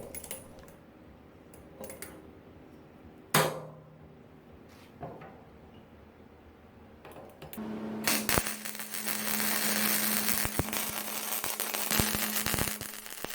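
Steel parts for a quick-adjust handle on a Harbor Freight band saw clamped to scrap paneling and welded: a few clanks and taps give way to a loud, continuous crackling arc buzz with a steady hum, close up and without speech.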